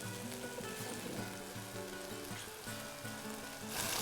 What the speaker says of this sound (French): On va laisser bouillir.